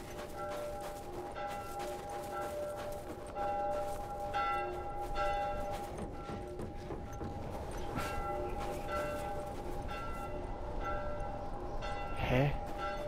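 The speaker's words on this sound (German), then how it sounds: "Aber die Glocke ist so da hinten" A church bell rings steadily in the distance within The Last of Us, its sustained tolling tones layered over dense ambient game noise and a constant low rumble.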